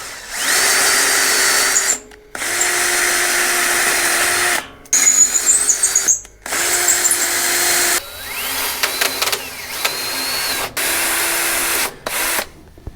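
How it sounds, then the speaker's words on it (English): A power drill driving an M10 tap while assembling a Hitachi excavator, heard as several loud, close bursts of steady whining motor separated by short pauses, with speed shifts and faint ratcheting between runs. "you got to set your drill so it's not at the max"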